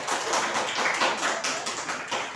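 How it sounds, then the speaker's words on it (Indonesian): A group claps in a classroom, a dense, continuous patter of many hands that stays fairly loud and even throughout, with no speech over it. "Oke, tepuk tangan dulu lah biar semangat nih jadi anak nih."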